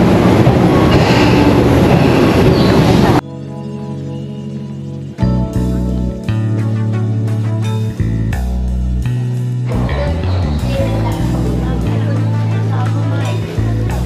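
A train passes by at a station in Japan, loud rumbling and rolling rail noise that gives way to a stretch of music-like tones before the rumble returns, with people talking nearby.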